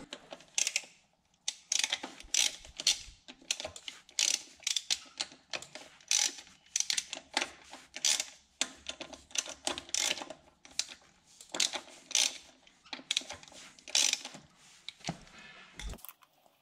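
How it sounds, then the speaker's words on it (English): 10mm bolts come off a wheel hub cap on a 79 Series Landcruiser, giving a steady run of quick metallic ratcheting clicks in bursts with short pauses, close up and fairly quiet, with no talking. "Then we'll undo the 10mm bolts around this cap"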